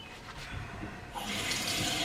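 Tap water runs into a sink while face cleanser is rinsed off, starting softly and swelling into a steady, louder splashing stream about halfway through.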